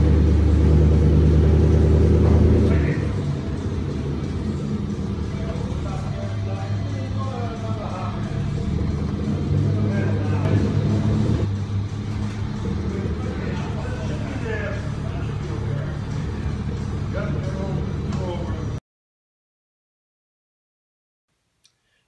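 A truck's engine runs and revs on a Mustang chassis dyno, a heavy low rumble that is loudest at the start and then holds steady, with voices talking over it before the sound cuts out near the end.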